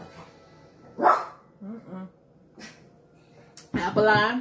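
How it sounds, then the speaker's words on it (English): A pet dog barks a few short, sharp times in a room, close to the microphone, between bursts of someone talking. "That's my dog."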